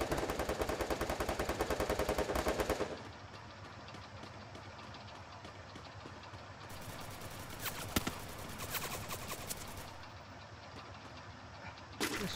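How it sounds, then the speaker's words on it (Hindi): Free Fire gunfire opens with a loud rapid burst of automatic shots, then sparse single shots and shorter bursts over a low engine-like rumble. "तो यहाँ पे फायर आ रहा है"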